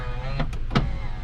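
Driver's power window on a 1999 Honda CR-V running down on auto, a faint motor whir with a couple of brief louder bursts over steady engine and cabin hum.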